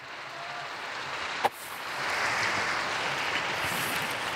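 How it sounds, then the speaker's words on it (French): Applause for Don Pino Puglisi at the Angelus gathering: a faint, distant, rain-like wash of crowd clapping that swells slightly after a brief thump and then holds steady. "Je vous demande d'applaudir Don Pino."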